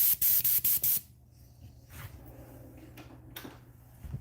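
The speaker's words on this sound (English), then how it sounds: "for that, I will be using my larger airbrush." A larger airbrush sprays opaque white paint in several short, loud bursts close by during the first second, followed by quiet room noise with faint clicks and handling sounds.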